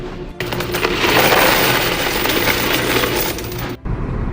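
A continuous cascade of coins pours out of a vending machine during money collection, a dense, loud metallic clatter running steadily for several seconds with brief pauses at the start and end.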